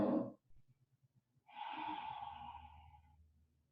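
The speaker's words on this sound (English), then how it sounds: "Nice deep breath." A deep breath drawn during a morning yoga session, a short exhale followed by a slow, soft, airy inhalation lasting over a second, heard close and quiet.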